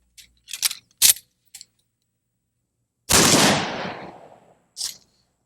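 A shotgun fires number 4 buckshot at a mannequin wearing soft body armor, a single loud, sharp blast that decays over about a second, set among a few short metallic clicks and clacks of handling before and after.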